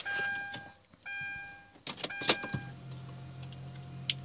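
Electric steering column of a Hyundai Azera retracting inside the parked car: a short motor whir with clicks and mechanical knocks, followed by a steady low hum, close and moderately quiet, with no talking.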